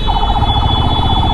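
A police car siren wails loudly with a rapid warbling pitch, steady throughout, over a low rumble of heavy Istanbul traffic.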